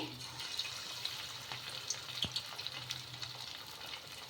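Bondas dropped into hot oil over medium heat fry with a steady, crackling sizzle, with small bright pops scattered through the few seconds.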